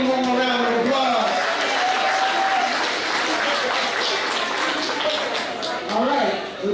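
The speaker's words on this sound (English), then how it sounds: "Y'all give Brittany one more round of applause." Audience applause fills an NFL Men in Black honoree event hall, a steady broadband wash of clapping that holds loud from start to finish, with a few faint voices mixed in underneath.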